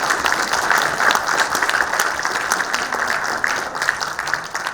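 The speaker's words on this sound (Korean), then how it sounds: "유 헬스케어 강의를 해주신 우리 최기용 대표님께 다시 한번 박수 부탁드립니다." A forum audience of around 270 people applauds a lecturer after a U-Healthcare talk, a dense, steady roar of clapping at close, loud level with no break.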